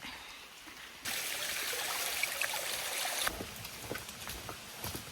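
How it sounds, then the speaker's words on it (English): Steady rushing water from a waterfall at a swimming hole, a constant broadband hiss that swells louder partway through, with faint sounds of movement nearby. "I can hear the waterfall."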